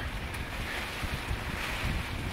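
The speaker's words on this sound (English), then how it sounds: "It is just a little blustery out here." Blustery wind buffets a boat deck at dock, a loud, continuous roaring gust with heavy microphone rumble and no voices.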